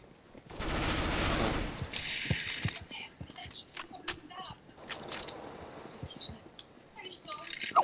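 Gunfire in the video game Counter-Strike: Global Offensive, a loud dense burst early on followed by scattered sharp shots and clicks, with players talking quietly in Danish throughout.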